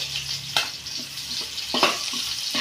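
Ginger and garlic sautéing in a hot pan make a bright steady sizzle, broken by a couple of sharper stirring scrapes, close and alone.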